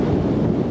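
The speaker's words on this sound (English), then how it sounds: "Strong southwesterly wind today." Strong southwesterly wind on a riverside walk by the River Crouch, a steady loud roaring buffet against the microphone with no breaks.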